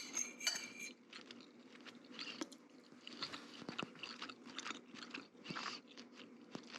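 Someone chews a fried sample of homemade Mexican chorizo close up, with soft crunching bites and mouth sounds spread across the clip and a few light clinks of cutlery, with no talking.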